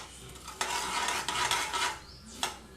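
Mustard seeds crackle and splutter in hot oil for a tempering, with bright bursts of popping and a brief stir of the pan, no voices.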